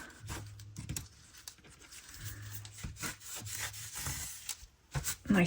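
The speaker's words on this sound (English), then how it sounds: "I'm just going to rub the edges down" Paper and card edges of a glued junk journal cover being rubbed down by hand, soft repeated scraping strokes with irregular rhythm, close and quiet.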